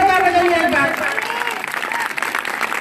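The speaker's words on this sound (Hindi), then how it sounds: "जोरदार ताली बजा करके आचार्य जी का इधरों बजावे के बाद" Audience applause at a Paswan community gathering in a village in Ballia, crowd clapping continuously with a dense steady texture, a voice calling out over it at the start.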